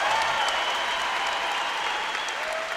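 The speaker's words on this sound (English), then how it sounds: "This crowd is unbelievable." A large crowd at a sports games event cheers and applauds loudly and without a break, a dense wash of clapping and shouting.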